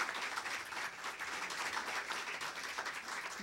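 An audience claps during a live talk program, a dense, even wash of applause that holds steady throughout, moderately loud and with no voices over it.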